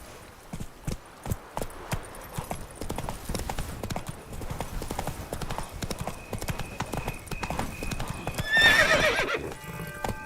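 Roach, the horse in the video game Witcher 3, gallops with rapid, rhythmic hoofbeats at close range, ending in a loud whinny near the end.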